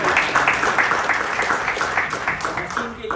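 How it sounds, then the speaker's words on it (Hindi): Applause from the audience at an annual cricket captains' meeting, a brief burst of clapping from a crowd in a hall, moderately loud and steady for a few seconds. "बहुत सारी तालियां नाज़िम के लिए"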